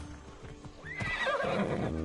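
A horse whinnies with a rising, shrill call over the steady clip-clop of hooves in a video game, fairly close and loud, with no talking.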